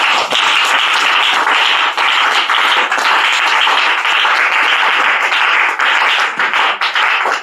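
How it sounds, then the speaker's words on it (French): A church congregation applauds for Jesus, steady loud clapping from many hands filling the room continuously without pause. "Acclamons pour le Seigneur Jésus-Christ"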